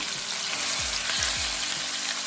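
Turkey necks searing in a hot pan, giving a loud, constant close-up sizzle and crackle with a few low thumps, no voices.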